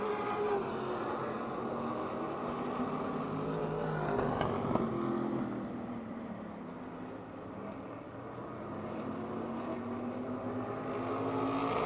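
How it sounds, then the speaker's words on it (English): Modified race cars in a heat race at Motordrome Speedway make a continuous, loud engine roar that swells and eases slightly as the pack circles, with no speech. "midpoint of our second Wyotech modified heat race"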